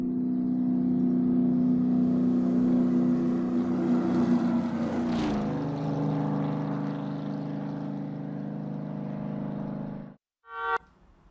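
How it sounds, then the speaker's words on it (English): Engine vehicle passing close by with a loud, droning motor whose pitch drops as it goes past, then fades steadily away until a sudden cut, followed by a brief burst of noise. "Here's an example of how the Doppler effect works in the real world."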